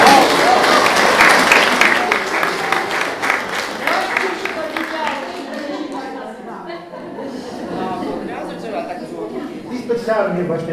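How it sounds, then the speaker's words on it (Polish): An audience applauds the choir Beautiful Voices at a school English song event: dense, loud clapping for the first half that thins and fades while voices and chatter take over. "Brawa dla tych."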